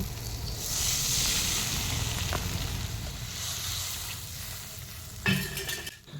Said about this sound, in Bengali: এবার এই বাটির 2 বাটি জল দিয়ে দিব।